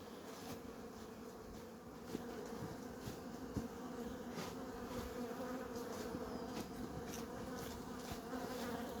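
Honeybees at an apiary hive, a dense continuous buzzing swarm close by, with individual bees droning past now and then over the steady hum.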